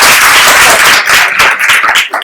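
An audience at a foundation event for period education claps loudly and steadily to welcome the foundation's president, with dense applause that thins out toward the end.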